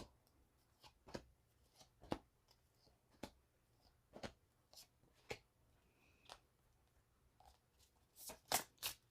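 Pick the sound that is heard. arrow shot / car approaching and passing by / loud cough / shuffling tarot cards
shuffling tarot cards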